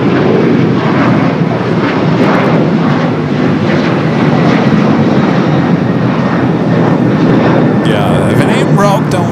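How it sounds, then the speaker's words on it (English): Avianca Cargo Airbus A330-200 freighter departing LAX, a loud, sustained engine roar filling the whole stretch, with a voice speaking over it. "Avianca Cargo A330 at 200 freighter heading to Guadalajara"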